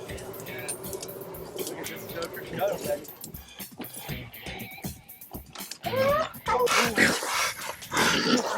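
Hunting dogs chasing hogs through a swamp let out intermittent, excited barks and yelps that grow louder and closer toward the end, mixed with people talking and rustling movement.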